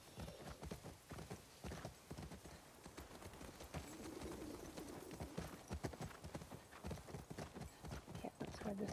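Horse hooves clip-clop steadily in The Last of Us Part II, a rapid run of close hoofbeats with faint birdsong and game ambience behind and a voice talking over them.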